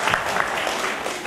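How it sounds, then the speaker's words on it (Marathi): An audience claps to welcome a poet onto the stage at a Marathi poetry recital, a short burst of dense, steady indoor applause from a modest crowd. "टाळ्या वाजवून त्यांचं आपण स्वागत करतो."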